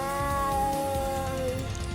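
A cat meows loudly and steadily in a long, drawn-out tonal cry, close and clear over a busy background, with no talking.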